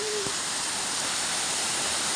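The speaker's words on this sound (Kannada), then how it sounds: "ಫ್ರೆಂಡ್ಸ್ ನೋಡಿ, ಇದೆ ಫಾಲ್ಸ್." A waterfall roars as a steady, dense rush of falling water, loud and close, with no other sound over it.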